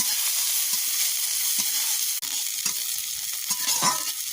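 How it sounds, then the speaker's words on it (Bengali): Onion and chilli frying in hot oil in a pan while being stirred, a steady loud sizzle with scraping stir strokes, alone with no talk. "এবার পেঁয়াজ আর লঙ্কাটা দিয়ে দেবো। এটা দিয়ে দিয়েছি, একটু ভালো করে নাড়িয়ে নেব।"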